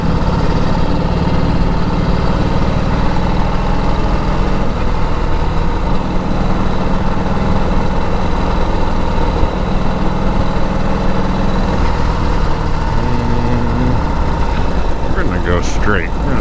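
A 1946 Indian Chief motorcycle engine runs steadily under way, a loud continuous rumble with wind noise, constant from start to finish, heard close from the rider's position.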